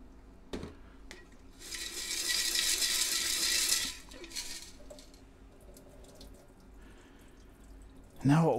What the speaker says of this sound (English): Now I'm going to give it a couple rinses with some distilled water.